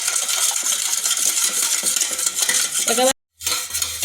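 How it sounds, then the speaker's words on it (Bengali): Sugar is stirred into eggless sponge cake batter in a steel bowl, producing loud, continuous metallic scraping and clinking close up, broken by a brief silence near the end, with a single word spoken. "এরপর এগুলো ভালো করে মিশিয়ে নিতে হবে"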